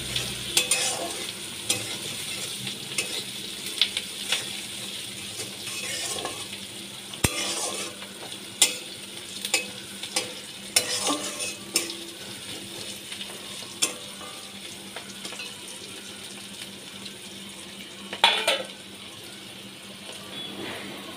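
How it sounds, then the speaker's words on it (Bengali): Onions frying in a pan until browned, a steady close sizzle with frequent scrapes and clinks of stirring running throughout, no talk. "পেঁয়াজ আমি লাল করে ভেজে নিচ্ছি"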